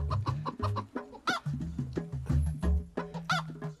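A rooster clucks over and over in quick, rhythmic bursts, close by and fairly loud, with no talking.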